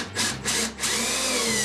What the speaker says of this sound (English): And we'll install one screw.